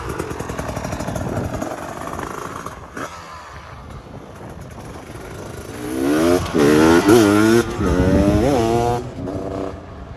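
A 2019 Beta 300RR two-stroke trike idles, then revs loudly and rides away, the engine rising through several sharp throttle blips before fading slightly toward the end, with no talk.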